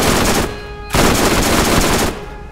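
Rapid bursts of automatic gunfire from the Detonating Stinger in Borderlands, two loud sustained volleys separated by a short pause, close and harsh.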